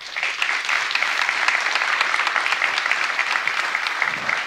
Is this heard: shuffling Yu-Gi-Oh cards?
no